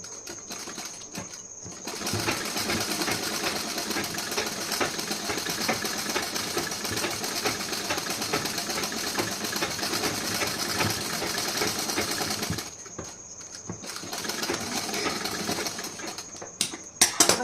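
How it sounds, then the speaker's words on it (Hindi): A sewing machine stitches a blouse in a long, steady mechanical whir with rapid needle clatter, stopping briefly before starting again, close and loud. "यहाँ पे एक सिलाई और लगा दे रही हूँ"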